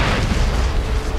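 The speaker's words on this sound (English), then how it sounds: "Kind of missed the explosion" An explosion in the video game Assassin's Creed 3 gives a loud, dense boom that rumbles on as a heavy, sustained blast for the whole moment.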